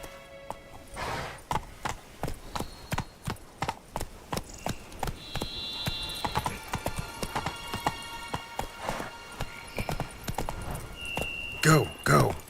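Roach the horse gallops in The Witcher 3: Wild Hunt – Blood and Wine, a quick, even clatter of hoofbeats that carries on throughout, with a brief whinny and faint voices now and then.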